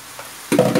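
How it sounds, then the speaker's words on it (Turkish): Diced zucchini cubes hit hot oil in a pan with spices and start frying, a quiet pause then an abrupt loud sizzle that keeps crackling steadily to the end. "Şimdi küp küp eklemiş, doğramış olduğumuz kabaklarımızı ilave ettik. Yani sanki patates kavurur gibi."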